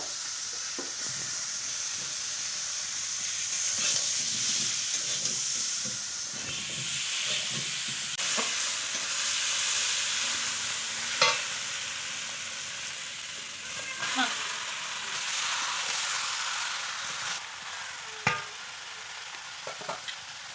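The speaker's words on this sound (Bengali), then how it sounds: "এখন ওই মাংসর আলু ভাজছে" Potatoes frying in oil for a duck meat curry give a continuous hissing sizzle with frequent stirring clatter, close by and steady throughout.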